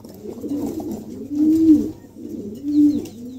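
Fancy pigeons, a pair of females, coo in low repeated rolling calls close by, with two louder swells near the middle and end and no voices.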